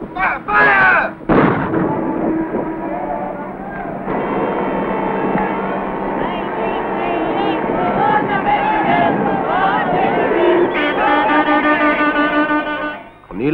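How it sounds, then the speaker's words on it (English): Naval guns firing a salute for the Whitbread Round the World race winner, with a loud booming report at the start and another shortly after, followed by a rumbling crowd and voices, then another blast at the end. "Stand by for guns. 3, 2, 1, fire!"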